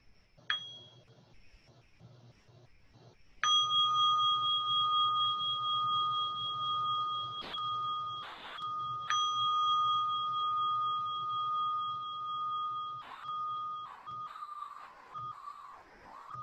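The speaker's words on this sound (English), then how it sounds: "focusing on the sound of this bell as it arises and passes" A meditation bell rings out clearly, with a sharp strike followed by a long sustained tone that slowly fades, then is struck again and decays once more, with soft background sounds between the rings.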